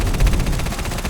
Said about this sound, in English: I have mini guns.